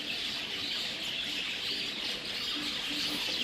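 At a pet bird show, a molted-out bird chirps in a dense, steady twittering against a busy indoor murmur. The chirping sounds moderately distant and continues throughout, and no one speaks.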